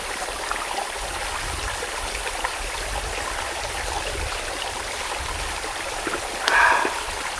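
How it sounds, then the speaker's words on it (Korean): A small forest stream trickles and gurgles steadily at a campsite on a hot summer day, a soft continuous wash of water with a brief brighter splash or chirp near the end. "물소리 쫄쫄쫄 흐르는 거 들으면서 이렇게 하루 지낼 수 있을 것 같습니다"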